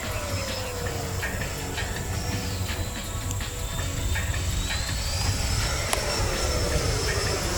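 Jet airplane flying aerobatic four-point rolls overhead: a steady, loud engine roar with a slowly shifting whine that rises as it passes, heard alone and continuous throughout.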